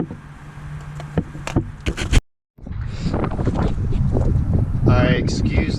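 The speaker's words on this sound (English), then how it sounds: "excuse the wind" Wind buffets a microphone outdoors during a car wheel stud repair, as a low, rumbling roar builds after a brief dropout, with some tool rubbing and handling sounds earlier.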